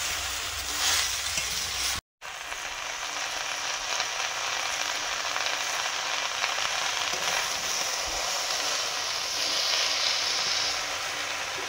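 Malabar spinach and mixed vegetables fry in a pan with a steady, close, even sizzle that hisses continuously with only a momentary break.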